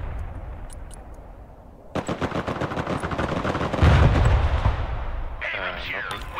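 Gunfire from a gunner engaging a target in the battle video game Broken Arrow: rapid, loud bursts of automatic fire that swell into heavier booming shots, while a voice talks over the battle.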